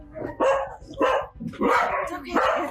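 A dog barks in several sharp, loud bursts at close range, with short gaps between them and a final pair of barks running close together.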